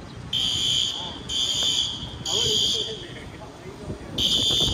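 Shrill fire alarm blasts repeat in regular pulses, four loud bursts cutting through people talking nearby inside a busy brewery or restaurant in Beacon, New York.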